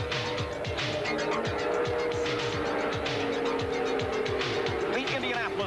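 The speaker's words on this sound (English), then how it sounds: "The crowd roars as the cars move through turn four and onto the straightaway." Indy 500 race cars from 1989 roar down the Indianapolis straightaway in a dense, continuous stream of high engine whines that rise and fall as cars pass, with crowd noise behind.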